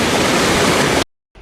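A creek waterfall rushes on open land in California, a loud, even wash of water close by that cuts off abruptly and returns faintly after a gap.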